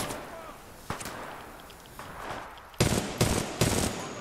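Gunfire from a weapon in the video game Titanfall 2: a few scattered shots early on, then three loud, sharp bursts in quick succession near the end over a background of ambient game noise.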